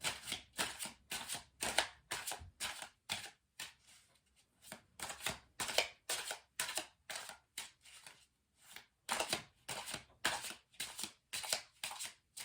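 Tarot cards being shuffled by hand in a quiet room, a close, crisp run of riffling bursts and flutters that pause briefly before starting again.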